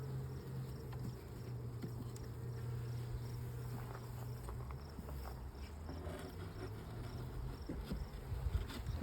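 Honeybees buzz around an open garden hive during an inspection, making a low, steady drone that is faint and continuous, with a few light taps and scrapes. No one speaks.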